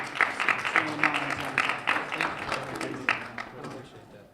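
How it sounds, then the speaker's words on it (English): A crowd at a STEM welcome reception applauds after an award acceptance, distinct claps rising and falling over a few seconds, moderately loud, with voices talking through the clapping. "Let's give a round of applause."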